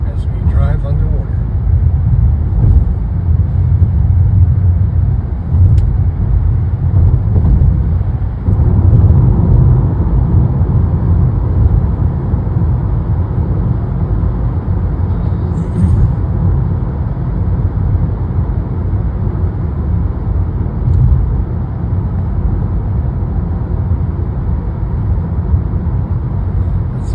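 A car drives through the underwater tunnel toward Logan Airport in South Boston, its steady low road and engine rumble echoing continuously and loudly throughout, with no talk over it.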